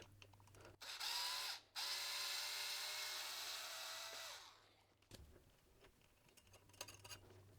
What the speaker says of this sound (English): we can see there's a screw there, so let's take that out and see what we're dealing with.